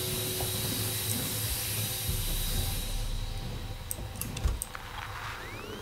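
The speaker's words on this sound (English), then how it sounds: "You really just gonna spray me with steam like that?" Steam hissing from a pipe in Alien: Isolation, a steady broad hiss that runs for a few seconds, then thins out into scattered metallic clicks and small sounds.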